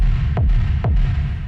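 Mono techno rumble bass pushed through an amp, heavy in the low end, throbs loud and close in two deep pulses whose pitch sweeps downward, with no voices.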